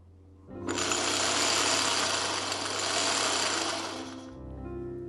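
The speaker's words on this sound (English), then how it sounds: "And now winding the bobbin." A Singer 401G sewing machine winding a bobbin: the motor spins up to a loud, steady high-speed whir for about four seconds, then cuts off to a low hum.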